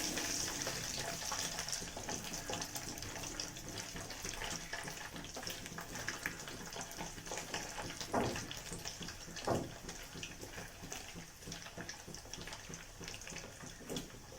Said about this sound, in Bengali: পনির করার জন্য পনিরগুলো আগে ভেজে নিচ্ছি লাল লাল করে পনিরটাকে ভেজে নিতে হবে